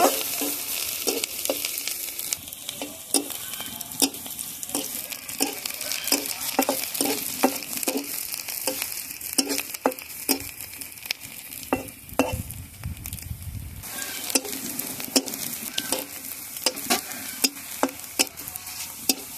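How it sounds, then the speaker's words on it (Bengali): Bay leaf, chopped onion and garlic fry in hot oil with a continuous sizzle, punctuated by frequent sharp scrapes and clinks of a spoon stirring against the pan, close and steady. "তেজপাতা, পেঁয়াজ কুচি, রসুন কুচি, এগুলো সব একসঙ্গে ভালোভাবে ভেজে নেব।"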